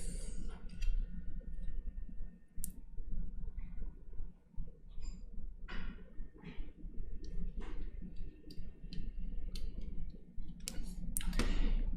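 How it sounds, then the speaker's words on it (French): An SD card slid into a small Pi Airmon Raspberry Pi aircraft-radar receiver, giving scattered sharp plastic clicks and taps among soft handling rustles, close and fairly quiet with no voices. "pour commencer à utiliser le produit, il faut insérer la carte SD"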